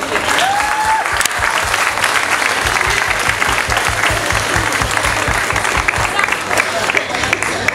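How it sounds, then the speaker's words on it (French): Applause from the crowd at a community walk event in Florange, dense steady clapping filling the space for several seconds without letting up. "Je pense qu'on peut vous applaudir."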